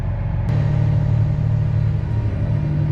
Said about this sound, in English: Truck coming in.